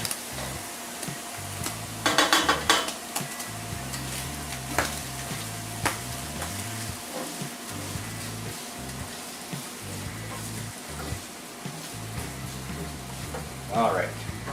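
Onions sizzle softly in a pan for chowder, with scattered scraping stirs and clinks of a utensil against the pan, the frying a low steady hiss close by under light background noise.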